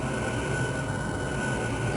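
A spaceship touches down on the ground in a Metroid: Zero Mission cutscene, a steady, dense roar of engine noise that holds at an even loudness for the whole moment with no speech.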